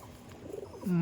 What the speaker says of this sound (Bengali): ফুলশিরা পায়রা